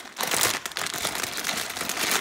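Plastic packaging from a gift haul crinkles and rustles continuously as someone struggles to open it, loud and close with no pauses.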